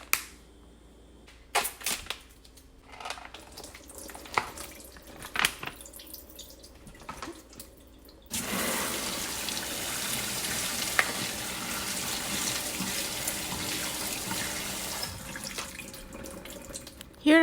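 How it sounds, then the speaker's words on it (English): Tap water runs steadily, rinsing Costco low carb keto noodles for pad Thai at a kitchen sink, a continuous hiss and splash that follows a few sharp handling clicks and knocks. "Rinse with water, hot, warm or cold."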